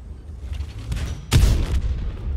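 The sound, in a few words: tank cannon shot in World of Tanks video game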